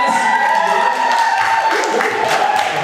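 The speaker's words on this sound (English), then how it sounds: "one more round of applause for the audience participation" An audience at an improv comedy show applauds, with steady, dense clapping filling the room from start to finish over a faint tonal hum.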